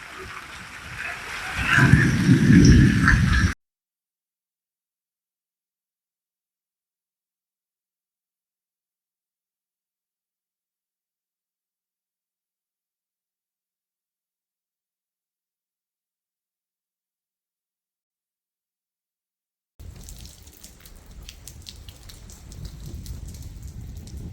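Steady rain pattering down in a village street, heard in two stretches separated by a long silent gap.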